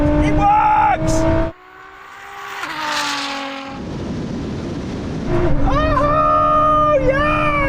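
A Ferrari SF90 and a 1000HP Nissan GT-R launch side by side in a drag race, engines screaming up through the gears with sharp shift breaks. A voice talks over the noise.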